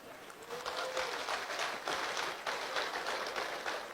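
Live stand-up comedy audience in Uganda clapping, a steady dense patter of hands that holds at moderate loudness throughout with slight swells, no talk over it.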